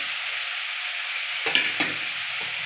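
Shredded cabbage with grated coconut is stirred in a hot pan, a steady sizzle of frying under two distinct scraping stirs of the spoon, close and moderately loud.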